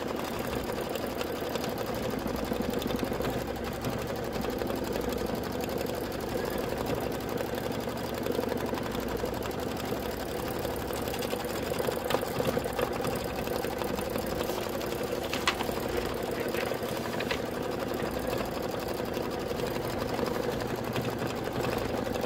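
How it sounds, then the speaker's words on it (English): An embroidery machine runs steadily through the back tack-down stitching line on a Kimberbell pet pouch project, a continuous close mechanical whir with rapid needle chatter that stays even throughout, with no talking. "Let's go ahead and stitch that."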